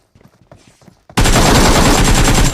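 Loud, dense gunfire erupts after about a second of quieter game sounds and runs continuously to the end, rapid automatic bursts from a BGMI battle royale firefight around a squad house.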